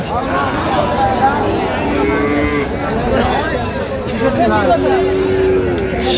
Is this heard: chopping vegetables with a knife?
no